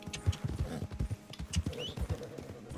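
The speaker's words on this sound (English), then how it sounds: "Okay, you're going to stable this horse." A Missouri Foxtrotter horse walks in Red Dead Redemption 2, its hooves clip-clopping in a quick, uneven rhythm. The steps are close and fairly quiet, with no voices.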